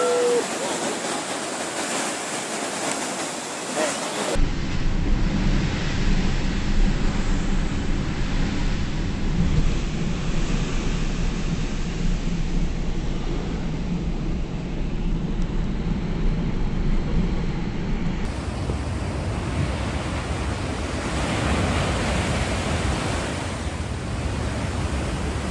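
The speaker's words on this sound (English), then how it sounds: "Two girls enjoy the waves of sea foam at a beach in Newcastle, Australia." Surf and foamy waves roll in at a beach in Newcastle, Australia, a loud, steady wash of broadband roar with no voices, after a brief different noise at the start.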